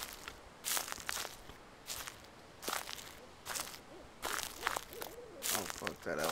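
Owl hoots sound at intervals in the horror video game Slender, mixed with crunching footsteps on forest ground, fairly quiet and close.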